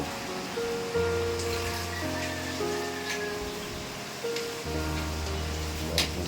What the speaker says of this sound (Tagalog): Hangin at ulan.